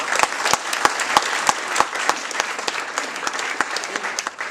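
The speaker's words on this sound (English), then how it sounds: "A round of applause for Suzanne." An audience claps for a volunteer named Suzanne as she joins the presenter on stage at a creative marketing and branding talk, a brisk run of sharp, separate hand claps at moderate loudness.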